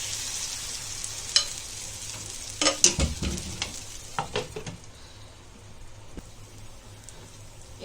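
Rice flour vegetable chilla batter sizzles and fries on an oiled pan, a steady close crackle with a few sharper spatters in the middle, no talking.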